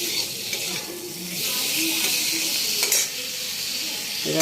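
Potatoes with ground coriander, cumin, ginger paste and tomato sizzle steadily in a pan for dhokar dalna, with a spoon scraping and stirring through them. A few brief clinks sound over the continuous frying hiss.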